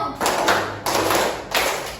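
A fifth-grade class claps the 'tepuk semangat 1' spirit chant together in a classroom: three loud, close bursts of many hands clapping at once, each a dense rattling wash of claps, with voices blended in.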